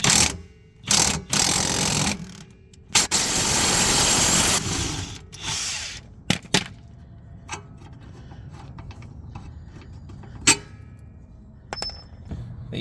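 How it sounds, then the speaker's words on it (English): Bolts being loosened from the rear shock of a Jeep Commander XK with 15 mm fittings during lift removal: metallic ratchet clicks and tool clanks come in short bursts, loud near the start, then sparse faint clicks and knocks. "I'm going to start the lift deconstruction with taking off this rear shock"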